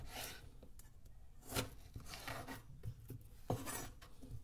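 A knife slicing a cucumber lengthwise into quarters on a cutting board, a few soft chopping taps and scraping strokes, faint and close in a quiet kitchen.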